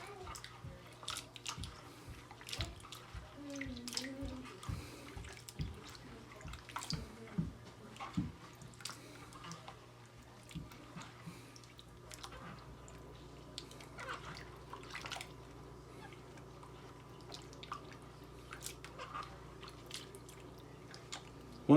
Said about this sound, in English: So after I cut them up, I just kind of move them around in the water.